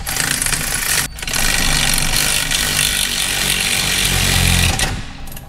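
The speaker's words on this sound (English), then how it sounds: "we got a ball joint press in place here" A ball joint press cinches Delrin suspension bushings into a Corvette C5/C6 control arm, giving a loud, steady grinding mechanical drone that runs almost the whole time, with a brief dip near the start.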